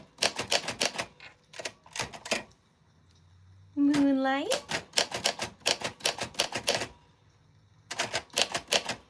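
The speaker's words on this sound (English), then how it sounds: "If you hear it make that stutter noise, it skips because this paper is a little bit tough for the typewriter these days" Vintage typewriter pounding out bursts of sharp keystrokes on tough paper, with a carriage-return bell and ratcheting in the middle and pauses between words; a voice speaks briefly.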